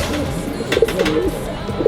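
Pigeons in an aviary coo in soft, throaty repeated calls, several overlapping phrases close by across the brief span, with faint rustling and no speech.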